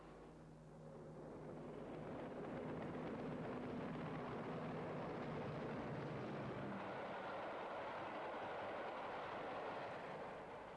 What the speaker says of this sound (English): a double-headed Class 40 tour, the Royal Scot, which relived old memories on the ascent to Shap